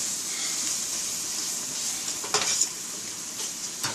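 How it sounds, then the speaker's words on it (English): Vegetable oil and a tablespoon of grease being stirred in a hot pot, a steady close sizzle with a few louder scraping stirs near the end, no talking. "1 full tablespoon of grease, vegetable oil. And then I'm going to take it, stir it up like that."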